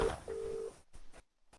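Outgoing call ringback tone on a phone: a short beep, then a longer steady tone, followed by brief bursts of static and silence.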